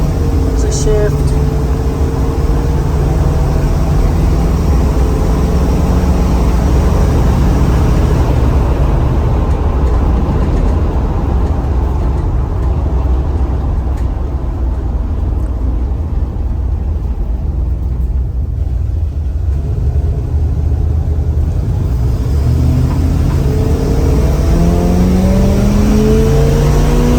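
Ford E-350 Econoline van engine drones loudly while climbing a hill, the rumble rising in pitch and then dropping at a gear shift, heard from inside with a voice talking over it.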